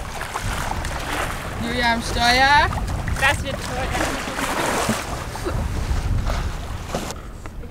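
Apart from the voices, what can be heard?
wind while sailing a sailboat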